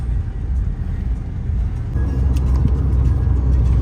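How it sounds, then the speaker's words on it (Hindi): A car drives along a road near Ranthambore and pulls out to overtake, heard from inside as a loud, continuous engine and tyre rumble that swells slightly as it accelerates past. "तो अब हम लोग सब्जी के सनम को ओवरटेक करने की कोशिश कर रहे हैं"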